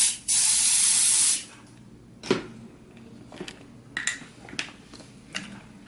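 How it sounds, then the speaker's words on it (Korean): A shaken can of glue dryer sprays a steady hiss for about a second over an acrylic nail tip, followed by a few small clicks and taps of handling. "글루 드라이어를 흔든 다음에 바닥 방향으로 향해서"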